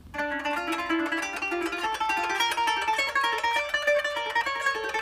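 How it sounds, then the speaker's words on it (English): A kanun played fast in a raise-technique exercise with a plectrum, a dense, continuous stream of rapid bright plucked notes, steady and close, with no talking. "And the whole exercise in the fast way sounds like this."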